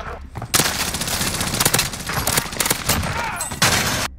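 Loud, dense video game gunfire in a shooter match where a player carries a riot shield, with rapid overlapping bursts of shots that pause briefly and then resume, close and dominant throughout.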